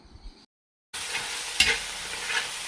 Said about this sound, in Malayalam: പിന്നെ ഒരു ഇരുന്നൂറ് ഗ്രാം വെളുത്തുള്ളിയുടെ ചതച്ചത് അതിനകത്തേക്ക് ഇട്ട് കൊടുക്കാം